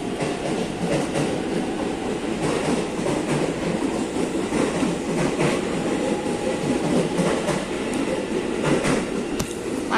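KRL commuter train 0528 departing Depok station, a continuous loud rumble of rolling cars with rhythmic wheel clatter and sharp clicks over rail joints throughout, with no talk.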